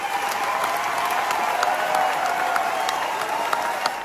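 A theatre audience applauds Rachel Zegler after her performance in Evita, with steady, dense clapping from a large crowd that stays loud and even throughout, plus a faint crowd murmur and no speech.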